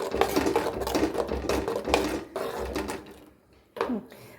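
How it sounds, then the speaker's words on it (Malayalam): Spices, including a little fenugreek powder, being stirred into a salted mango curry, giving irregular scraping and rubbing strokes of a spoon against the pot, close and fairly quiet, with a brief pause before the stirring resumes. "ഇനി നന്നായിട്ടൊന്ന് മിക്സ് ചെയ്ത് കൊടുക്കുക."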